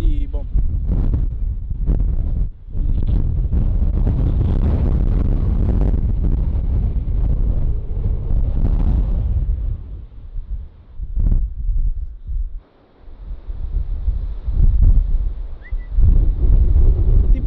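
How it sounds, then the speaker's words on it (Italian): Strong, erratic wind gusts buffet the microphone in an open field, a loud broadband roar that surges and drops with brief lulls, while a person speaks intermittently underneath. "Sta tirando delle folate senza senso."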